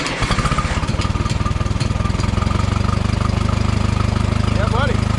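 A small engine, running on choke, chugs steadily at a fast even idle, loud and close, with a voice briefly audible over it near the end.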